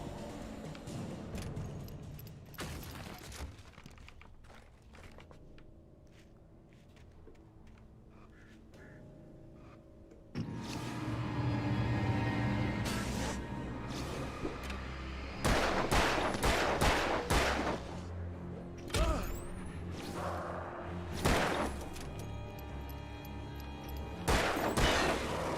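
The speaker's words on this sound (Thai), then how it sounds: "กดหมดแม็กอะ" Bursts of gunfire from a magazine being emptied in the horror action game Alan Wake, several sharp clustered shots in the later half over a rumbling game soundscape, with no talking.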